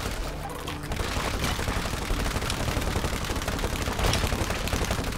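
Sustained rapid gunfire from the co-op video game It Takes Two, set in the garden level, firing continuously and densely for several seconds with a slight surge near the end, loud and without talk.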